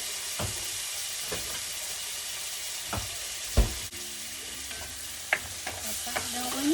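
Garlic, butter and onions sizzle in a pan, a steady close frying hiss broken by several sharp clatters of stirring.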